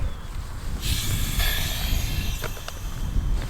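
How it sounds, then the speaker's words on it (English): A steady rush of air hissing out of an opened air valve on a wearable tent starts a moment in and keeps going over low wind rumble, with a couple of brief clicks near the end. "Right, so we're going to undo the air valve,"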